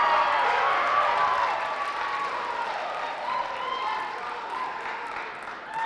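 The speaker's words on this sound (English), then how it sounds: "Give another round of applause for Sam" Audience applause and cheering for a contestant named Sam at a Mr. MHS pageant, a steady dense wash of many hands clapping that holds loud throughout and fades slightly near the end.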